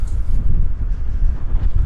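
Strong wind buffets the microphone in a continuous, rumbling gust with no other sounds standing out.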